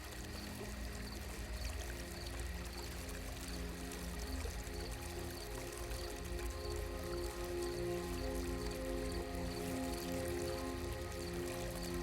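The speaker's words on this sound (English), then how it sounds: "The water falls into a shallow basin." Water falls steadily into a shallow basin with a constant, soft splashing and trickling wash, faint and unbroken throughout.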